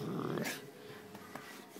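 A dog growls grumpily at close range, a low rumbling snarl with a snort at the start that then trails off into soft breathy grumbling and faint shuffling.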